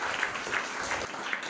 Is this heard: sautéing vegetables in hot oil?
no